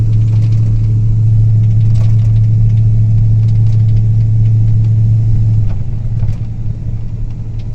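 A 1992 Ford F250 with a 5.8 liter Windsor V8 and E4OD transmission, short on power in overdrive, runs with a loud, steady, close engine drone whose low note drops and roughens after a few seconds.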